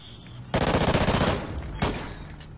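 A rapid burst of automatic gunfire in a tactical shooter video game, a loud close rattle of about a second followed by a single fainter shot, with no talking over it.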